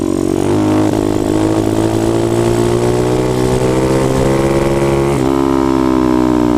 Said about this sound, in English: here's a wheelie where you chase it. It's not the balance point, it's below it, so you gotta keep giving it throttle